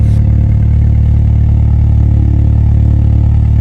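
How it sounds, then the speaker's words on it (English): A high-mileage Audi S3's exhaust drones loudly and close by: a deep, heavy, unbroken rumble that holds steady from start to finish, with no voices. "when you go outside, honestly, you can hear the drone. Even from inside the house, it is loud."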